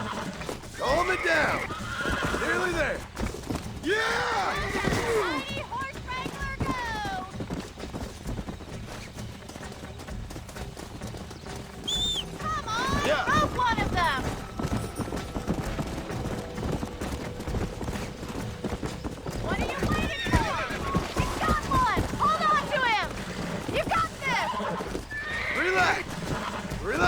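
A horse in Red Dead Redemption neighs and whinnies repeatedly while hooves clip-clop steadily, loud and close, with a rider's voice talking in between.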